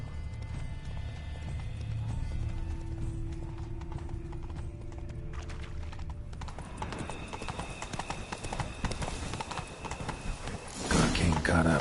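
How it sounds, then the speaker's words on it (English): Horses clip-clop along a road in The Witcher 3, hooves thudding in a steady rhythm under a low musical drone, with a sharp whinny and a burst of hoofbeats near the end. "Horses must have gotten spooked."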